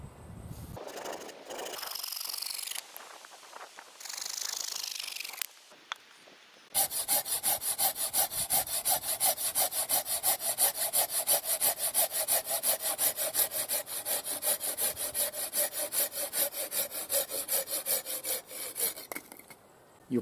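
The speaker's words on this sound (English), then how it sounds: "I'm going to section this piece of willow up now, get the two nicest, straightest pieces off it." A Silky Gomboy folding saw cuts through a piece of willow wood outdoors, first in a few uneven strokes, then in a long, steady, rapid rasping rhythm that runs close and clear to the end.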